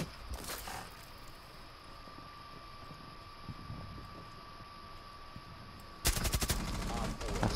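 Video game gunfire bursts in short crackling volleys, a brief one near the start and a louder sustained barrage from about six seconds, over a low steady hum.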